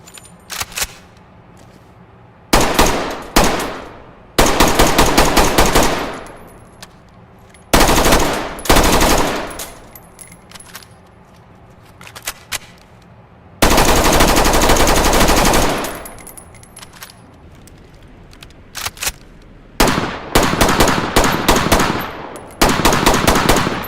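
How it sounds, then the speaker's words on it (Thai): Bursts of automatic F90 rifle fire from the video game Ready or Not, loud and close, in several sustained volleys separated by short pauses, no talking. "เรามาดูกันดีกว่านะครับว่า ปืน F90 นั้นมีเสียงเป็นอย่างไรนะครับ"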